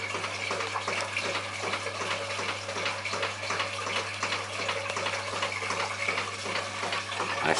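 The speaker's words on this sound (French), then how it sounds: "la fontaine de Héron, voilà, elle fait un petit jet qu'on voit ici" A small copper and brass Heron's fountain sends up a water jet about 60 cm high. The water makes a continuous splashing, gushing rush at a steady level, with a low hum underneath.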